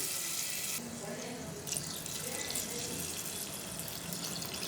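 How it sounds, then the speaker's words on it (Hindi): Water pours steadily into a pot of chicken haleem, about a litre in one continuous rushing stream that runs close and fairly loud for the whole stretch. "फ़िलहाल हम इसमें 1 लीटर शामिल करेंगे और उसके बाद हम इसमें पानी और भी शामिल करेंगे।"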